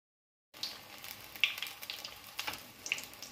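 Egg bajji sizzling in hot oil, a soft continuous crackle with small pops and bubbling bursts, fairly faint and steady after a brief silence.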